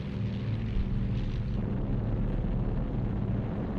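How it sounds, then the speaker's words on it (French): German WWII aircraft over the Russian front, engines droning in a loud, steady, continuous roar with no voices. "Dans le ciel russe, les avions allemands combattent à 1 contre 5."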